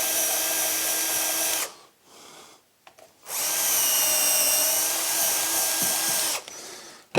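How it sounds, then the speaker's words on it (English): A power drill piloting screw holes in oak, whining loudly at full speed in two long bursts separated by a short pause and a few quieter spins, close up. "Now, because this is going into oak, I am piloting the holes."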